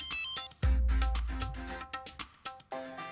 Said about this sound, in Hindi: महेश डोंगरे का फोन आ रहा है।